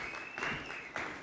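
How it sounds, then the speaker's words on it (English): A conference audience gives a panelist a round of applause at a film and TV festival event, a steady wash of distant clapping under a faint tonal hum, without speech. "A round of applause for him, please."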